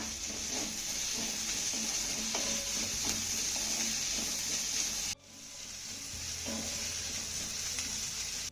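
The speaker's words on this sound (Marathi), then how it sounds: "यामध्ये ना आपल्याला दोन चिरलेल्या हिरव्या मिरच्या घालायच्या छान मिक्स करून घेऊया" Chopped green chillies are stirred into onions frying in a pan. A soft, steady sizzle runs under intermittent scraping strokes, and a brief cut near the middle drops the sound before the frying hiss resumes, all fairly quiet.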